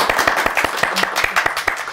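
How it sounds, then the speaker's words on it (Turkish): A small crowd claps steadily, a dense patter of hand claps at close range, with a voice briefly audible beneath. "Alkışlayın Ahmet Yiğit'i."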